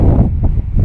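Wind gusts buffet the microphone at an outdoor shooting range, a loud, dense low rumble filling the whole short moment with no talk.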